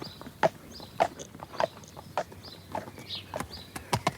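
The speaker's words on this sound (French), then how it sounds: "Il se laisse aller au pas de son cheval." A horse plods slowly along, its hooves clip-clopping in a steady, evenly spaced rhythm of sharp knocks, moderately close and alone without talk.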